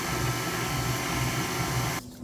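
Electric hand mixer running on low speed through pumpkin streusel bread batter, a steady close motor whir with rhythmic churning pulses that stops abruptly near the end.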